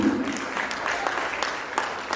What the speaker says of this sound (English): Please clap for them once again.